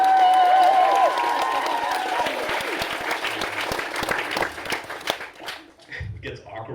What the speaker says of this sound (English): Keep clapping, I gotta drink water